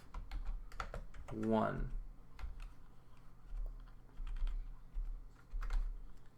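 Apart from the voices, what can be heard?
typing code on a computer keyboard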